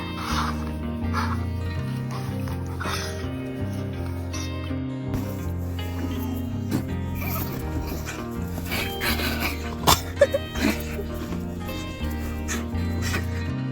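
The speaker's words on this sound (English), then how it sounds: "Number 11. Dog laughing." A dog makes a playful, breathy laughing pant over steady background music, with a few sharper bursts near the end.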